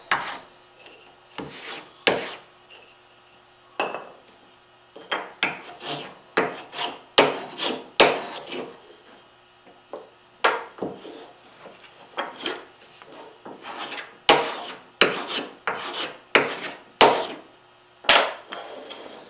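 Pine block glue surfaces for a curly maple spice box are roughed up by hand. Close, dry rasping strokes come in quick irregular bursts with short pauses between them, and no talking.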